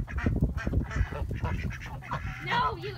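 Ducks and other poultry gather near water, honking and quacking close by in a dense, overlapping cluster of calls, with a louder run of calls near the end.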